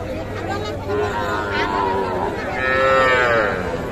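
Young cattle at a livestock market for bull and heifer calves give several long, loud moos close by, over a background of crowd chatter and voices.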